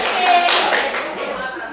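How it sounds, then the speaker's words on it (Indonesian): Audience applause at a university class presentation in Makassar, a short burst of clapping from a small group, fairly close, fading slightly toward the end. "kasih aplaus untuk Ayu Putri"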